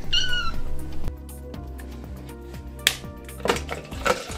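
A cat meows at the start, followed by clattering mechanical sounds and a few sharp clicks and knocks over steady tones.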